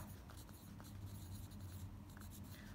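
Pen strokes scratch across paper in short quick bursts as a graph scale is written out, a faint close-up scribbling with no talk over it.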